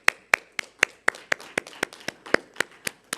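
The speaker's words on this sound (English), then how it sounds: "Let's please give him a round of applause" Clapping at a conference, heard as a single pair of hands striking in a steady, evenly spaced rhythm of about a dozen sharp, close claps, fairly quiet.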